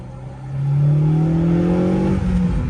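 The engine of a 2013 Honda Civic Si coupe revs up loudly from inside the car, its pitch climbing steadily before a brief dip at the gear shift, then continuing under acceleration.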